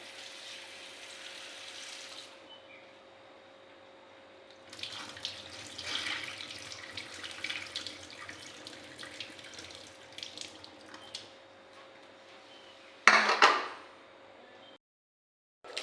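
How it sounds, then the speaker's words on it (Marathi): Running water splashes steadily from a tap into a sink as vegetables are washed, rising louder midway, then a sharp clatter before the flow cuts off. "स्वच्छ पाण्याने धुवून घेते"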